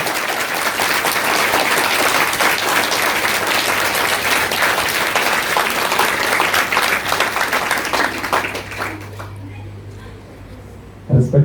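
Audience applause fills a school investiture ceremony: dense, sustained clapping from a crowd for about nine seconds, then it thins and fades to near quiet before a brief final burst.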